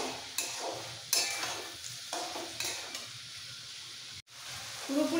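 Potato, drumstick and poppy seed curry being stirred in a pan, a spatula scraping in several separate strokes over a soft sizzle, close and clear.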